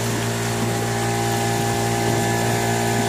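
Air compressor pump driving a DIY pond vacuum, a loud, steady mechanical hum with a constant rushing drone throughout, close and without pause.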